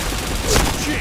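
Game gunfire in an online shooter landing a headshot: a single loud burst around the middle of a one-second moment, with a short crack over a steady background hum.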